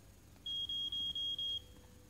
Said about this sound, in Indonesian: tuh ada suara telepon sebelah kanan sepertinya